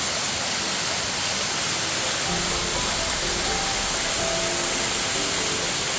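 Mountain spring waterfall at Ourika, Morocco, pouring down the slopes in a steady, loud, broadband roar of rushing water that fills the scene from start to finish with no voices over it.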